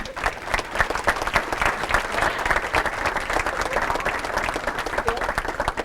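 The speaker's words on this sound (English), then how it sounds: "Let's give them a nice round of applause." A banquet audience at a 2002 Pennsylvania Sports Hall of Fame dinner applauds, dense steady clapping from many hands filling the room, sustained at even loudness throughout.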